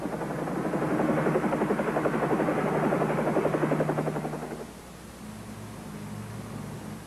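A helicopter from a TV series roars steadily with a rapid rotor chop, loud for several seconds before dropping to a quieter, lower hum.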